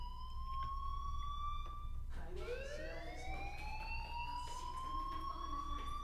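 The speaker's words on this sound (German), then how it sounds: "do you hear that fire alarm?" School fire alarm in the game Life is Strange: a steady electronic siren tone that cuts out briefly, then returns in a rising sweep and holds, fairly quiet over a low background hum.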